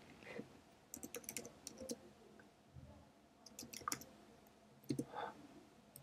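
Code is typed on a computer keyboard in quick irregular bursts of crisp key clicks, close and quiet, with short pauses between runs.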